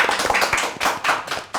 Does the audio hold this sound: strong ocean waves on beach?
no